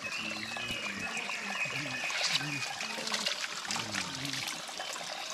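Hot spring water trickles and splashes as it is scooped, with a voice speaking over the liquid sounds.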